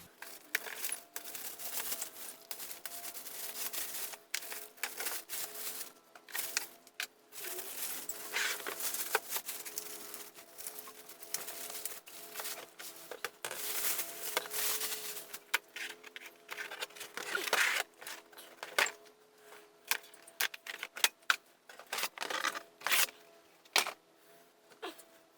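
A new CSF radiator for a Nissan 370Z being unwrapped close up, with crinkling plastic and cardboard, rustles and light clicks in irregular bursts, quiet and alone.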